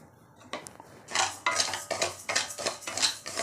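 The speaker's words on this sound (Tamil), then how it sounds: "இப்போ இந்த 1 கப்பு பச்சரிசியை நல்லா செவக்க வறுக்கணும்." One cup of raw rice is dry-roasted in a pan, giving a series of rhythmic scraping and rattling strokes as the grains are stirred, close and fairly clear, with no talking.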